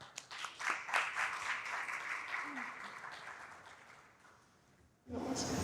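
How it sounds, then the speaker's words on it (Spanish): An audience at a Dominican Republic digital economy event claps and applauds, the sound swelling early and then slowly fading out before a voice begins speaking. "le damos un fuerte aplauso"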